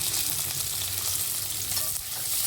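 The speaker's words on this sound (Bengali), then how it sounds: "পনির ভাজা হয়ে গেল" Paneer and potato vegetable curry fries hard in a pan with cumin, giving a dense, continuous, close sizzle with stirring and no voices.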